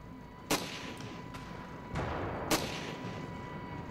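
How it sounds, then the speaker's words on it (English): Sharp gunshots crack in a Ravenfield desert battle, three or four distinct reports spaced irregularly, some near and some farther off, over a steady background hum with no voices. "Sounds like there's a sniper next to us."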